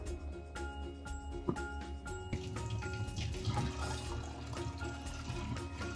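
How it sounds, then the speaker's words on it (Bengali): Lentils being washed in water in a home kitchen, with sloshing, pouring and dripping water and small clinks of a pot, moderately quiet and close, no talking. "ডালটা ধুয়ে নিলাম"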